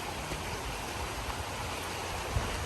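A scenic river flows steadily on a fine day, a soft, continuous rush of water with low rumble and no voices, with one small splash or knock near the end.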